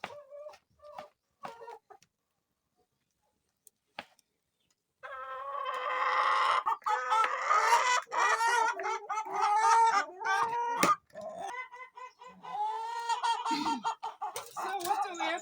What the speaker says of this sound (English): Remember, the chickens are assisting me to cook.